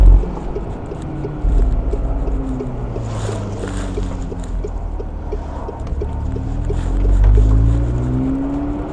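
A McLaren 720S Spider supercar gives off a steady, deep engine drone that swells louder near the end as the throttle is pressed, with no talking.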